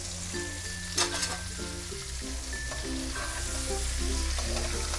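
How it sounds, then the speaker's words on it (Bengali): Potatoes and chopped onions fry in a pan for a dinner of alur dam, giving a steady close sizzle with a few stirring scrapes and clinks near the start. "আলুর সাথে পেঁয়াজটা ভাজা হয়ে যাবে"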